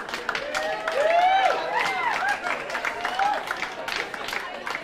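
Applause from a crowd at a high school class reunion as officers are introduced, steady clapping mixed with cheers and voices, moderately close.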